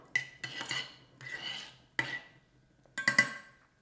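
Utensil stirring and clinking in a bowl of citrus salad supremes being mixed with rose water, several short scraping and tapping bursts with pauses, close and fairly quiet, no talking.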